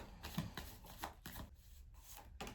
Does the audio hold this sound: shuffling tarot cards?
yes